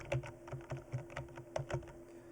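Quick keystrokes tapped on a computer keyboard, a brisk irregular run of soft clicks, close by and fairly quiet with no talking.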